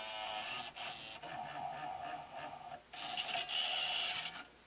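A CD changer in a Ford Super Duty truck ejects a disc with a faint mechanical whirring and grinding, the motor running in short stretches with brief pauses, close and quiet.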